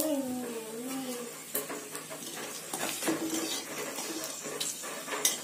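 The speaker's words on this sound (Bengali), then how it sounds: "তেলের মধ্যে একটুখানি শুকনো লঙ্কা ফোড়ন দিয়েছি" Dried chillies tempering in hot oil in a wok, with a soft sizzle under clinking utensil and stirring sounds, while someone speaks briefly at the start.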